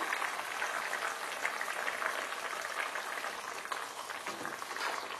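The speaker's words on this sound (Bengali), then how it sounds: "এটাকে এখন আমি ঢেকে সেদ্ধ করব।" Meat for Bangladeshi-style halim boiling in a covered pot, a steady close bubbling hiss that stays even throughout with no talking.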